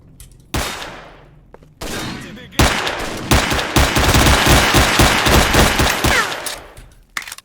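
In S.T.A.L.K.E.R. Shadow of Chernobyl, a few loud, separate gunshots ring out, then a long, rapid burst of automatic fire rattles on for several seconds before cutting off abruptly.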